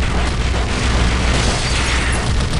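Crates blown up in an Indiana Jones action game set in the Golden Lotus, a dense, continuous roar of blasts and rumbling debris filling the whole moment, loud and close with no talk over it.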